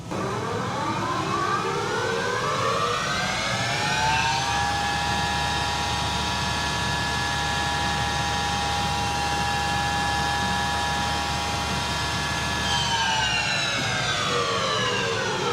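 A custom drive shaft for a classic or race car spins up on a balancing machine, a loud steady whine rising in pitch, holding at about 4,500 RPM, then falling as it slows, with no talk.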